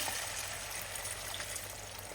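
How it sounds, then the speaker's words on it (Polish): About 100 ml of water goes into a hot frying pan of carrot and onion, a short continuous hissing wash of liquid, close and fairly quiet, steady throughout. "teraz wlewam około 100 ml wody"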